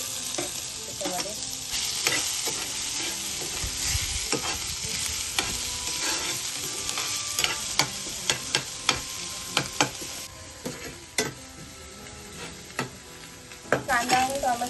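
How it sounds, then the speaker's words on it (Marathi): Onion and tomato, with garlic, fry in a pan while being stirred, giving a soft sizzle broken by frequent scraping taps of the spoon that grow sharper and more frequent toward the end, with no voices. "कांदा आणि टोमॅटो चांगला भाजून झालेला आहे."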